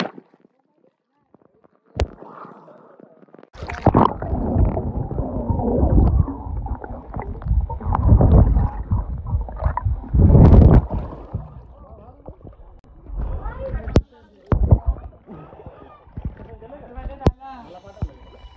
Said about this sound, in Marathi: आता मी डायरेक्ट पाण्यामध्ये उडी मारणार.